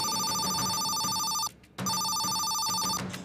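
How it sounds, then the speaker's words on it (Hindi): A telephone bell rings loudly in steady repeated bursts with a short gap in between, the phone call coming from a police superintendent. "अरे बाप रे, पुलिस एसपी साहब का फोन है"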